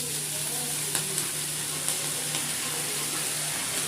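Bohar bhaji greens fry with onions in a pan for a Chhattisgarhi dish, giving a steady close sizzling hiss broken by a few light clinks of stirring.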